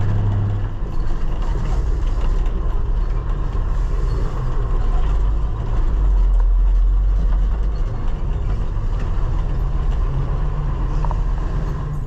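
An old 9500 combine harvesting beans in a field gives a loud, steady mechanical roar and rumble that runs unbroken for the whole stretch.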